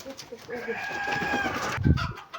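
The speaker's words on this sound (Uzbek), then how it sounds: "Tovuzlardan bitta ko'rsatib qo'ydik." A chicken clucks close by in a short, rising burst of calls, followed by a low thump near the end.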